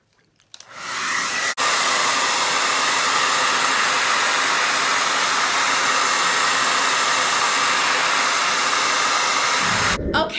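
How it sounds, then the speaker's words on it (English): A hair dryer blows steadily to dry a freshly applied chalk transfer, switching on with a click and running as a loud, even whoosh for about nine seconds before cutting off. "I can go ahead and blow dry it."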